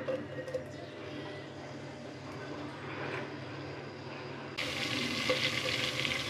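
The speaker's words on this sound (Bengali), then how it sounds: "পেঁয়াজটা ভাজা হচ্ছে।" Onions frying in white oil in a pan for pilau, a steady low sizzle that swells into a brighter, louder hiss partway through.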